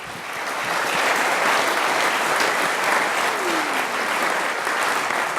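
An audience at a mayoral candidates' forum applauds continuously, a dense, loud, even wash of clapping sustained throughout with no clear talking.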